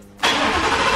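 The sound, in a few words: car engine revving at the start of a drive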